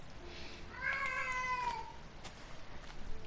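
Whisper, a female cat in heat, lets out a drawn-out wavering yowl in the middle, with quieter room noise before and after.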